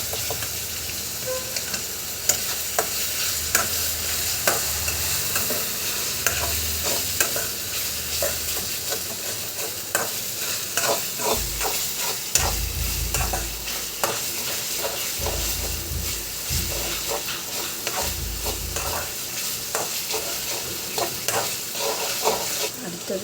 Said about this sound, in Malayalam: അടുത്തത് തക്കാളി ഇട്ടെടുക്കാം. എന്നിട്ടൊന്ന് നന്നായിട്ടൊന്ന് വാട്ടി കൊടുക്കാം.